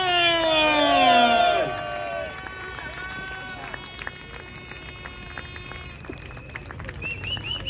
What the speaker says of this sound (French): je vous prie de faire un tonnerre d'applaudissements à Pierre-Yves Rougeron.